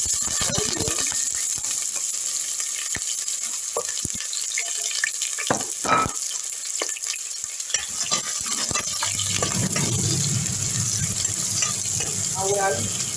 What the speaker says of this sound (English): I will allow it to saute for a minute.